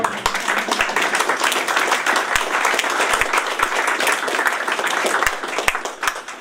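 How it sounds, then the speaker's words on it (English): An audience claps and applauds loudly and steadily, many hands at once, with a few sharp individual claps standing out. "May we give them a round of applause?"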